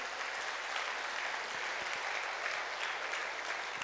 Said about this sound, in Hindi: एक बार सभी कलाकारों के लिए जोरदार ताली बजाएं।